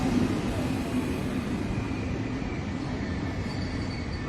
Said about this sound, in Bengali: চার ঘন্টার ট্রেন সফর সেরে স্টেশনে এসে পৌঁছয়